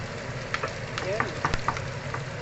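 Onions sauté in a pan, giving a steady close sizzle with a few stirring scrapes and light clinks, brief and fairly loud, with no voices.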